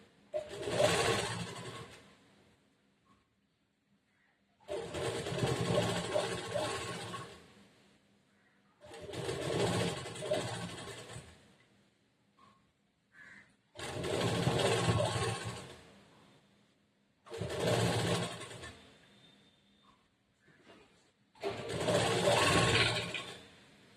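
Sewing machine stitching over an existing line of stitching in six separate bursts of a few seconds each, close and fairly loud, with short quiet gaps between runs.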